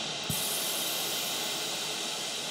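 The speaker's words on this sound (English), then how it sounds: "Brownian noise," Brownian noise from a Max for Live noise generator plugin, a continuous steady hiss-like rush that switches in abruptly and then holds at an even level on its own.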